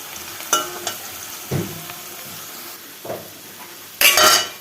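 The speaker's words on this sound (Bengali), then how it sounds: "আলুটা ভাজা হয়ে গেছে তখন রসুনটা দিলাম নাহলে রসুনটা বেশি ভাজা হয়ে যাবে" Fried potatoes with crushed garlic in a pan give a low sizzle, punctuated by several distinct clinks and scrapes of a utensil against the pan, with a sharp hiss burst near the end.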